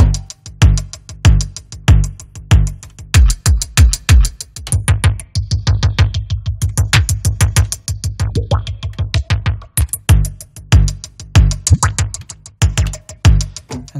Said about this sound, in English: The second sound I'm gonna use is called kick and hat